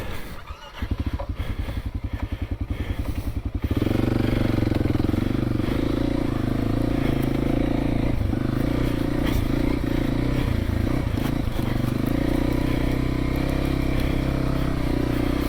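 Kawasaki KLX300 dirt bike ridden along a forest trail being cleared: the single-cylinder engine putters at idle, then rises into a loud, steady drone that holds close to the mic throughout, with slight throttle changes and no voices.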